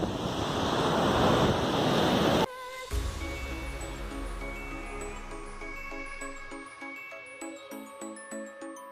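Waves at Kudle beach in Gokarna, loud surf and wind rushing for a couple of seconds before giving way abruptly to softer, quieter sounds.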